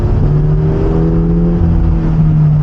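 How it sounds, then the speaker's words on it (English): A Subaru BRZ sports car's exhaust revs, sounding as a loud, close, steady and deep engine drone with strong tonal harmonics and no voices. "And the exhaust isn't too loud"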